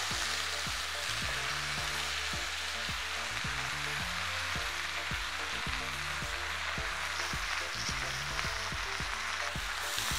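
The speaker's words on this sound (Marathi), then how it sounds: "असं व्यवस्थित हलवून घ्यायचं सगळं।" Hadga (agastya) flowers sizzle in a hot pan with oil and spices while being stirred over a low flame, a dense continuous frying hiss with faint rhythmic scrapes underneath.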